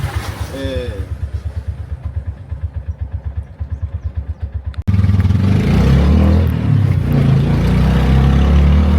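A tuk-tuk auto rickshaw engine putters in a fast, regular idle pulse, then roars louder and rougher while riding, close and dominant, with a voice speaking briefly at the start.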